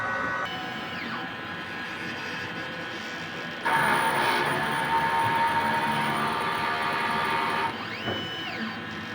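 A DTF printer runs a head clean, giving a steady mechanical whir with a louder middle stretch of pumping and motor noise. Carriage sweeps can be heard near the start and the end.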